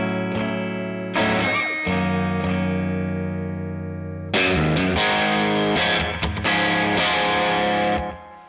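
Electric guitar with slapback echo and heavy reverb, sustained chords ringing out, then a louder, busier strummed passage that cuts off near the end.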